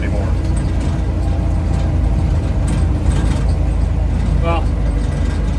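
A Willys CJ5 Jeep with a Chevy 4.3L V6 engine drives along, its low, rumbling engine and road noise continuous and loud, with brief mechanical rattles.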